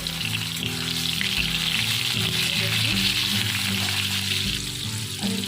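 Tomatoes with a pinch of salt fry in a pan for cabbage dal tarka, a steady, close, dense sizzle that holds evenly throughout with no talk.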